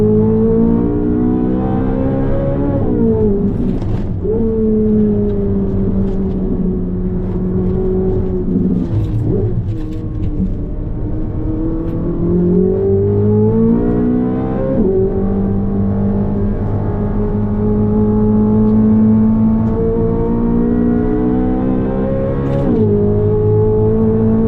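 Sports car lapping a race track, either a Corvette Z06 or a Lotus Emira, heard from close by: the engine climbs through long rising pulls with sharp drops at gear changes and lifts, loud and continuous throughout.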